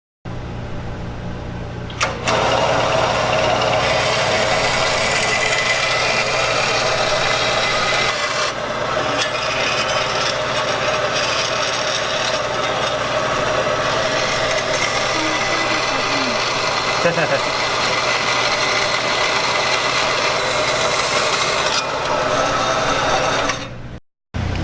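A power tool cuts metal pieces for wheel hubs for a mower-based go-kart, giving a loud, steady, continuous grinding rasp close up that runs for over twenty seconds before stopping abruptly.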